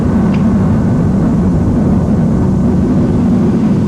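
A B-1B Lancer bomber takes on fuel from a tanker during aerial refueling, a loud constant low jet roar and rumble with no break.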